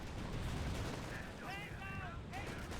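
Artillery fire in Company of Heroes, a continuous rumbling battle barrage of booms and gunfire with whistling shell tones, at moderate loudness and with no clear separate blasts.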